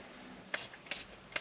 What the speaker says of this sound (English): spray the outer portion again, just to help the squeegee